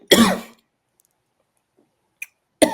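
A single close, rough throat-clearing cough bursts out, followed by near silence, a tiny click, and then the start of another raspy cough at the end.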